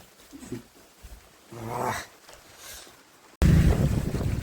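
Strong wind gusts from a windstorm buffet the microphone, growing into a loud, continuous roar near the end.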